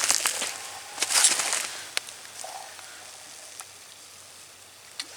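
A stick of butter melting into ghee in a metal canteen cup, soft crackling sizzle with scattered pops and spits, quiet and close, fading to a low simmer.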